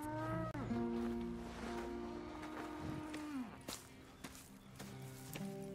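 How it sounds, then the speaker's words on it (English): Cattle mooing on a farm in the Red Dead Redemption 2 game: several long, drawn-out moos, one after another, loud and close, with soft footsteps and faint taps underneath. "Here's the cows."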